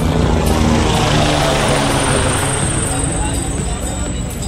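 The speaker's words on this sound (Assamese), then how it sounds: "হেলিকপ্টাৰ।" A helicopter on the Kedarnath pilgrimage route drones loudly overhead with a steady rotor roar, fading slightly toward the end, with faint crowd murmur beneath.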